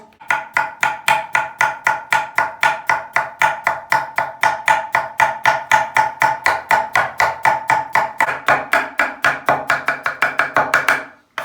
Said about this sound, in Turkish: Hemen patateslerimizi ince ince doğrayacağız.